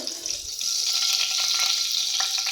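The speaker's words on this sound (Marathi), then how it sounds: "सर्वात पहिले आपण यामध्ये मोहरी टाकून घेऊया" Mustard seeds hit hot oil for a sukhi brinjal dish and set off a steady, hissing sizzle that starts softer, then rises to a loud, even crackle close by.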